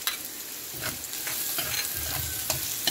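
Garlic and onion frying in a pan with a little oil, a steady close sizzle with soft scraping stirs recurring every second or so; no voices.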